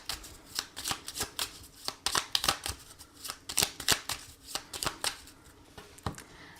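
Oracle cards are shuffled and cut by hand, giving a quick irregular series of crisp riffling flicks and taps, close and clear, with no voices.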